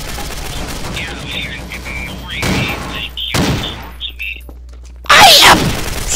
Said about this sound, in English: I am shooting things!